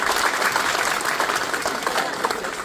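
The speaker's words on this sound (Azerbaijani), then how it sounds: "Və alqışlarınızla." Steady, dense applause from an audience at a village school's last-bell ceremony, continuous and fairly loud throughout with no pauses.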